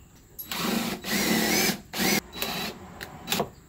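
A cordless drill drives a screw into a side skirt on a widebody Audi, whirring in several short bursts of varying length with brief pauses, loud and close.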